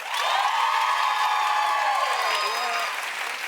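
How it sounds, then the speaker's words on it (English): A talk-show studio crowd bursts into loud, sustained clapping with whoops and cheers rising over it, filling the room before easing off slightly near the end. "Clap if you think it ought to be Mark."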